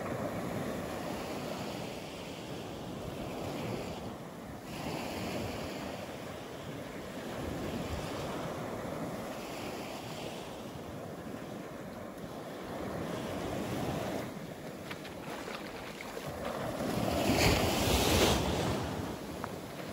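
Waves wash onto Sanibel beach as the tide comes in, a steady soft roar of surf with wind noise across the microphone and a louder swell near the end.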